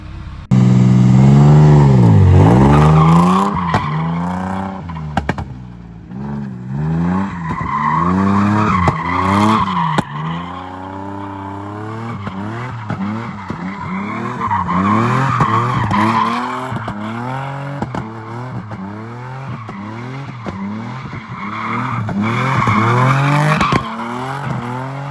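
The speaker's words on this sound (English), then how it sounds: "I just threw a couple donuts with the welded diff" A Nissan G35 with a welded differential does donuts, its engine revving in repeated rising and falling sweeps while the tires squeal and skid loudly and continuously nearby.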